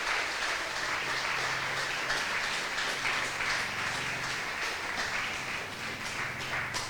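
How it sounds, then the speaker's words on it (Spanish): A church congregation gives loud, sustained applause, a dense steady wash of many hands clapping together that fills the space from start to finish. "Denle un fuerte aplauso al Señor Jesucristo."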